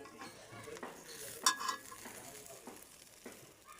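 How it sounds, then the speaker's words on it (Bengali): Green chili peppers roast on a banana leaf over heat, with a faint, crackling sizzle and soft scraping or stirring taps, one brief clink near the start, all low and close. "এই যে মরিচ খোলা হয়ে গেছে।"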